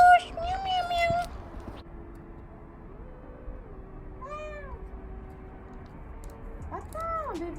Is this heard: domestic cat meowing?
yes